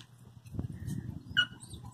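Puppies and a Yorkie play outside, giving low, rustling scuffles and faint soft whimpers, with a brief sharper yelp near the end. The sounds stay fairly quiet and close.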